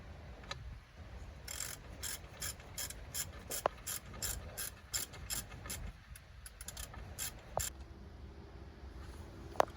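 A hand ratchet clicks in quick repeated bursts while tightening the top bolt on an M37 truck during a wheel bearing change, close and fairly quiet, with short pauses between strokes.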